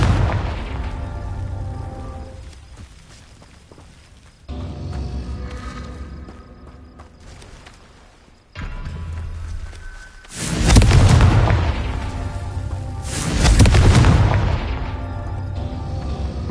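Confringo fire spells from the Hogwarts Legacy video game explode in a series of deep booms and bursts. Two heavier blasts near the end stand out, separated by stretches of rumbling and lighter impacts, with no talk.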